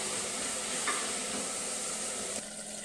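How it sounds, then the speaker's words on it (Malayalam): Chopped onions sautéing in a pan with ginger and garlic, a steady soft sizzle and hiss holding throughout at low level, with a brief stir partway through. "അപ്പം നമ്മുടെ സവോളയൊക്കെ നല്ലപോലെ ഒന്ന് വഴന്ന് വരട്ടെ."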